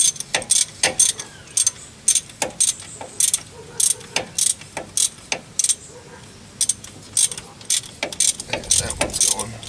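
A ratchet turning bolts on a 1997 Dodge Ram 1500 during a front U-joint job, close and crisp, in quick repeated bursts of clicking with short pauses between strokes, no talk.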